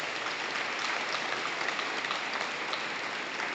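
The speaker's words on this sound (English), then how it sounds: "let's give these inductees another round of applause." Sustained applause from an audience honoring hall of honor inductees at a high school ceremony, a dense, steady wash of clapping with no talk over it.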